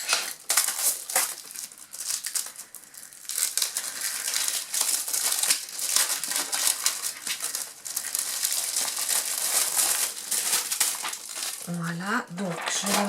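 Close, crisp crinkling of a transparent photocopier sheet, rustling in bursts with brief pauses, and a short tonal sound near the end.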